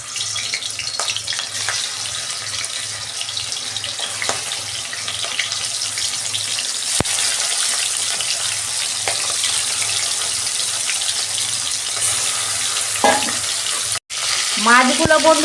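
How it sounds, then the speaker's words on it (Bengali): Prawns frying in hot oil in a wok, a continuous loud sizzle and spatter with occasional stirring clinks, close and steady throughout. "এই তেল গরম হয়ে গেছে, আমি মাছগুলো দিয়ে দিচ্ছি।"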